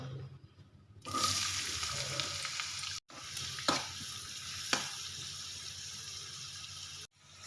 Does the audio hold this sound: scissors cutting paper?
no